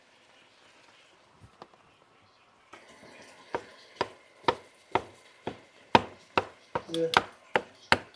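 A knife chops food for a chicken pasta sauce with stuffed mushrooms, striking a board in a steady series of about a dozen sharp, close knocks after a quiet start, with a brief spoken word.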